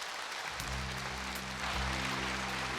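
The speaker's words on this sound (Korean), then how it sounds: "여러분들의 따뜻한 박수로 모셔보도록 하겠습니다" An indoor audience claps warmly to welcome a Buddhist monk to the stage for a talk, a dense, continuous wash of applause over a low steady hum.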